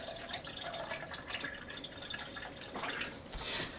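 Water pouring into an Oster Versa blender jar for homemade coconut milk, a soft, steady splashing trickle with faint dripping, close and quiet.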